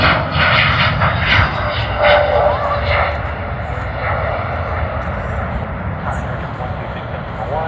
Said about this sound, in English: I think I'll just get this takeoff